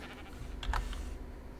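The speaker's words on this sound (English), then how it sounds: "So it's a male Ovis. So male sheep." A male Ovis sheep in ARK: Survival Evolved gives a short, faint bleat over quiet game background noise and light clicking.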